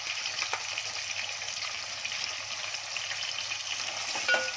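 Finely chopped tomato frying in oil with curry leaves and chilli pieces for a prawn curry, a steady, quiet hissing sizzle that stays even throughout, with a small knock near the end.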